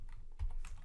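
Keys tapped on a computer keyboard during a computer task, a few close, quick clicks in a short burst with no talking.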